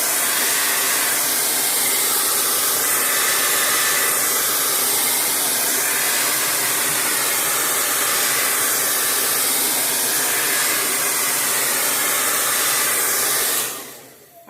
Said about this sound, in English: So a regular hair dryer from home works great.